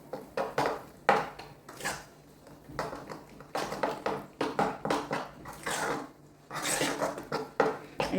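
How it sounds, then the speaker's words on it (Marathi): A spoon stirring dhokla batter with Eno in a bowl, irregular scraping and tapping strokes against the bowl in bursts with short pauses, close and moderately loud. "लगेच आपण हे व्यवस्थित"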